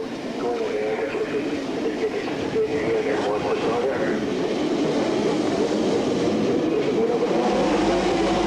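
Racing motorcycles pull away from the start of the 1986 British Grand Prix, a dense sustained engine roar with shifting whine, heard under continuous commentary.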